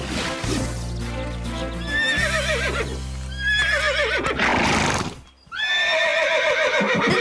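A horse in a Western film scene whinnies loudly several times in long, wavering calls, with hooves clip-clopping and shuffling underneath, all close and clear with no talking.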